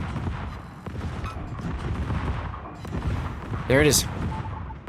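Secondary guns on a warship fire in a naval battle game, a dense rolling stream of booms and thumps under continuous excited commentary, with a sharp rising whoosh near the end.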